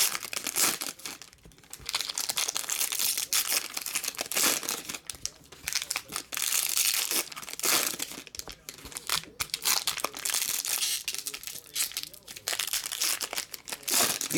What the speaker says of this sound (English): This is the way a pack should open. You pinch it, you pull it, and it goes straight down.